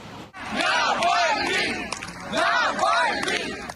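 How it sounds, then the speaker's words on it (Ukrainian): Crowd outside a church during a funeral, loudly chanting and shouting in rhythmic waves as the coffin is carried in, with applause mixed into the roar. "Труну до храму заносили під оплески та вигуки."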